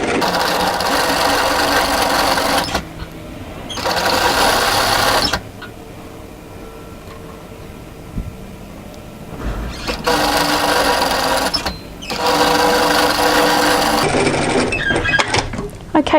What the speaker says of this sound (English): I'm going to sew a second line of top stitching parallel to the first line and on the side that has the fold